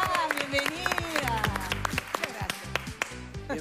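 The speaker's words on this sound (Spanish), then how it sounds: "el aplauso para recibir a Carmen Morán" A studio audience claps to welcome a guest, Carmen Morán, on a television talk show. The clapping is moderate and scattered, with talk and other voices over it.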